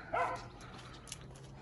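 A dog barks once or twice at a country dacha garden, a short bright yelp near the start and then fading into quiet outdoor background.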